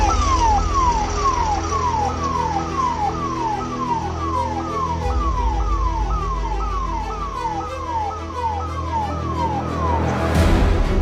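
An ambulance siren wails in a rapid repeating yelp on a street near Delhi's Red Fort after a car blast, loud and steady for about ten seconds over low traffic rumble.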